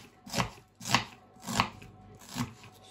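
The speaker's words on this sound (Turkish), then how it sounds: "Soğanlarımı doğradım, bitti." Red onions being chopped with a knife on a board, four distinct, evenly spaced chops close up with quiet pauses between, no talking.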